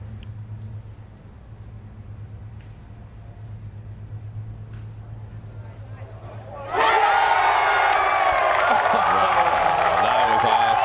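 Friends erupting into loud cheering and clapping around the back of the green after a winning putt at the 2023 Junior Ryder Cup singles, breaking suddenly out of a hushed golf-course quiet and staying loud and sustained.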